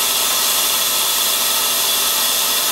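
A Tsugami S20D CNC Swiss lathe runs its live tools, giving a steady, loud, hissing machine whir that holds evenly without pause and with no voices.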